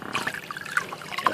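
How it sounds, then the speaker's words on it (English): Water trickles and dribbles from a small pump on a rocket stove pool heater, a brief, soft, steady flow with light splashing. "Little pump pushing the water through."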